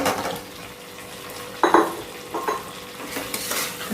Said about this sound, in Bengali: আলুটার সঙ্গে কিছুক্ষণ মশলাটা কষিয়ে নেব